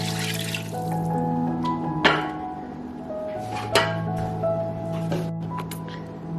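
Water poured into a pot for lontong sayur, a trickling, dripping liquid sound with a few clinks, alongside a steady tonal hum in the kitchen and no speech.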